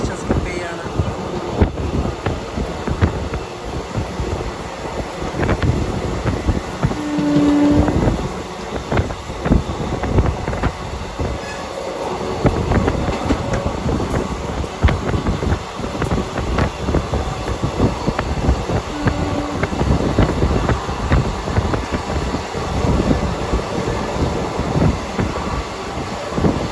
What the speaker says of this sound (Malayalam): ട്രെയിൻ ഇപ്പം 110 km/h